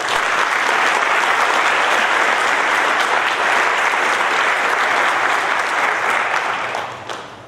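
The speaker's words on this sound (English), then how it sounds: "Please join me in a round of applause to thank both those who submitted nominations as well as those who reviewed them" Audience applause at an alumni awards convocation, a loud, dense and steady clapping from a large crowd that holds for about seven seconds before tapering off near the end.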